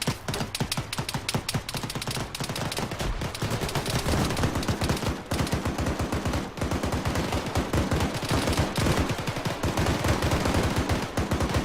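Rapid bursts of automatic gunfire from the military shooter game ARMA III during squad training, loud, dense, continuous rattling volleys with overlapping shots.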